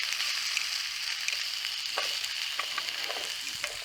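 Chili oil sauce simmers on a camp stove in an outdoor camp kitchen, producing a steady, close hiss of bubbling and sizzling sprinkled with small crackles and pops throughout.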